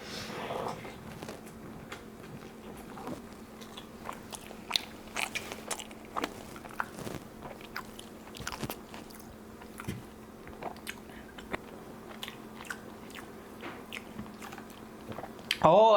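Someone eats loaded steak fries topped with carne asada, sour cream, guacamole and beans, plus tacos, with close, repeated biting and chewing crunches that are irregular and fairly faint over a quiet background.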